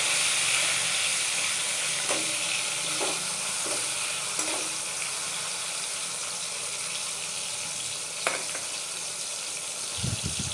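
Chopped tomato frying in a pan for an everyday lunch dish, a steady soft sizzle with a few sharp stirring clicks and a brief clatter near the end.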